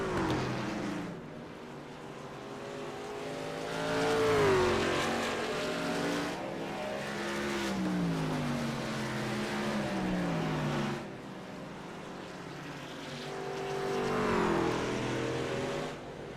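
Stock cars racing at Indianapolis Raceway Park in the iRacing simulator, engines droning and rising and falling in pitch as cars pass and accelerate, a continuous roar with repeated swells over about sixteen seconds.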